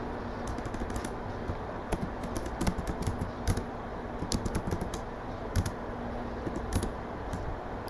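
Keys clatter on a computer keyboard in quick, irregular bursts of taps with short pauses, close and fairly quiet, during work in a graphics or animation program.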